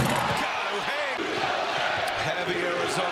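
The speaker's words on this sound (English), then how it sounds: "Heavy Arizona crowd here in San Jose" A heavy Arizona fan crowd roars inside a college basketball arena in San Jose, a dense sustained din of cheering with sneaker squeaks and ball bounces, under continuous commentator talk.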